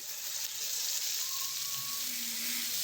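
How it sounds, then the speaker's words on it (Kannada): Green chillies and curry leaves frying in a pan for alasande (black-eyed pea) fried rice, a steady bright sizzle throughout with no pause, close and loud. "ಈಗ ಇದನ್ನು ಹಂಗೆ ಫ್ರೈ ಮಾಡ್ಕೋಬೇಕು ರೀ ಸ್ವಲ್ಪ ಕೆಂಪು ಬಣ್ಣ ಬರೋ ಮಟ್ಟ ಕರಿಬೇಕು ರೀ"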